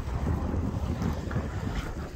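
A strong head-on wind buffets the microphone at the seaside at Kiama near Sydney during night fishing, a loud continuous low rumble with waves washing in underneath.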